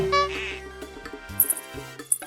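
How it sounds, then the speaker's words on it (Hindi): Clucking chicken sound effect in an animated Hindi story, a few short squawks and clucks with music and effects in the background, close and fairly loud, no voices. "उसने रास्ते में देखा कि सांबा नाम का आदमी हाथ में एक मुर्गी को लेकर जा रहा था"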